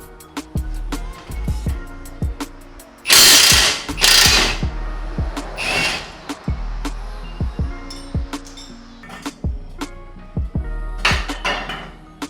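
A hand ratchet clicks while removing the 12 mm top nuts and the 17 mm nut and bolt from a blown BC Racing shock absorber. Quick bursts of sharp, close ratcheting alternate with metallic clinks and tool clatter, with no talking.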